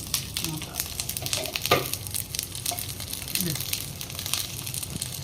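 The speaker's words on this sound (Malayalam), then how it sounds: "ഇതൊരു എട്ട് മുതൽ പത്ത് മിനിറ്റ് ഇങ്ങനെ നമ്മൾ ഫ്രൈ ചെയ്യാൻ വെക്കണം ഓയിലിൽ" Brinjal (eggplant) pieces frying in hot oil, a steady close sizzle with occasional crackles and pops, stirring clatter now and then and faint voices in the background.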